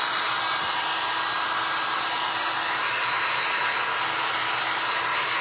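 A hair dryer blows steadily and loudly on a resin popsicle art piece, a constant airy whoosh with a faint motor whine that runs unbroken for the whole stretch.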